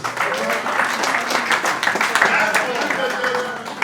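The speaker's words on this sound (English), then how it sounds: "A round of applause for you," Audience at an evening event applauding, a dense steady wash of clapping held throughout at a fairly close distance, with a voice speaking over it.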